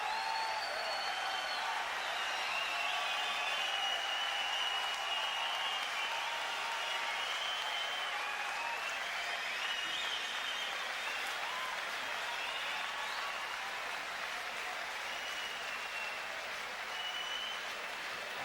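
Boxing arena crowd applauding after a heavyweight bout ends, a dense, steady wash of clapping and cheering that stays loud and continuous throughout, with no clear voices standing out.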